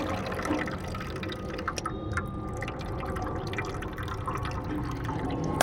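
Leftover water, milk and sugar drain out of used tea leaves in a steady close trickle with scattered drips and splashes, no talking over it.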